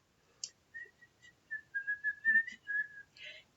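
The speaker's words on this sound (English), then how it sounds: "Can you whistle?" A person whistles a short, wavering tune of about a dozen clear notes, close and alone with no voices, with a few soft clicks and breaths between notes.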